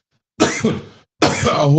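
Two harsh, raspy coughs sound up close, one after another with a short pause between them.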